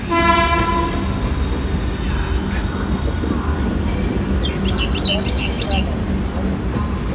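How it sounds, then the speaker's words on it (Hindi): A long intercity train bound for Amritsar, Jalandhar and New Delhi sits at a station platform; a loud horn sounds at the start over steady rumbling and station bustle, with faint bird chirps later. "काफ़ी लंबी ट्रेन है भाई"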